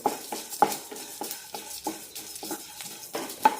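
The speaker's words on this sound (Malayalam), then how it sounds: "കൈവിടാതെ ഇളക്കിക്കൊണ്ടിരിക്കണം ഇല്ലെങ്കിൽ ഏതെങ്കിലും ഒരു സൈഡ് കരിഞ്ഞു പോകും" Shahjeera gets dry roasted in a pan for homemade garam masala while a spoon keeps stirring, a steady run of quick scraping strokes with occasional metallic clinks and a faint sizzle beneath, close with no talk.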